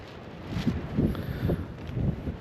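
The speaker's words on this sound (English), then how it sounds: "it's really windy here" Steady broadband wind roar buffeting the microphone, with gusts swelling every half second or so, no voices.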